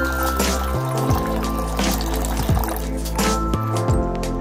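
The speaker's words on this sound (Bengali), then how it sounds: "এরপর আমি দু কাপের মতো জল অ্যাড করেছি" Water is poured over soaked toor dal for a dal sultani, a close, continuous trickling and gurgling fill with small splashy bursts throughout.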